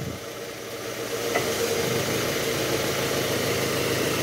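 A Toyota Harrier with a 2AZ engine, after repair of a rough knocking noise, idles and revs with a steady, even mechanical hum, close and alone, rising slightly in level after the first second.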